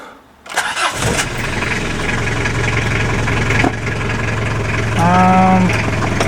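A diesel engine turns over and catches, then settles into a steady, loud idle around 800 RPM, with a brief rising whine near the end.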